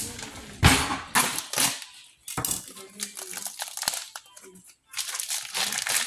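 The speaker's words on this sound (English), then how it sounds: "Cut open my cheese pack." A plastic pack of cheese is cut open in a home kitchen, giving bursts of loud, close plastic crinkling and rustling with short pauses in between.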